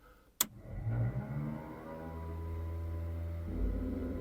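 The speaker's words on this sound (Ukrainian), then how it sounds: "О! Полетіло. З другого разу, так?" A quick sharp click, then a BMP armored vehicle engine turns over on the second attempt and settles into a steady, low rumbling idle that swells slightly near the end.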